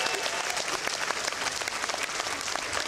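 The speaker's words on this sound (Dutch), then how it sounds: "Ja, een groot applaus." Audience applauding at a fierljeppen (Frisian pole-vaulting) championship final, a dense, steady crackle of many hands clapping together, moderately near and continuous for the whole stretch.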